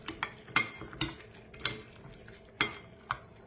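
A utensil taps and scrapes against a bowl while chicken sauce is stirred, with about eight sharp irregular clinks, close by and fairly quiet, and no voices.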